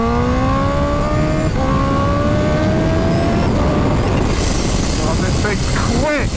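A Kawasaki H2 motorcycle engine accelerating hard with a Turbosmart blow-off valve fitted to its turbo, a loud rising engine drone, wind-blasted and close, ending in a brief hiss as it shifts.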